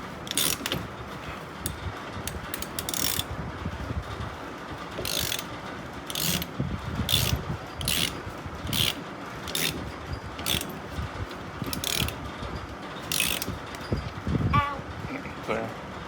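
Ratchet or wrench clicks in short bursts while bolts are tightened on a Jeep Wrangler YJ during a 1.5-inch lift kit install, with metallic mechanical clatter throughout and people talking nearby.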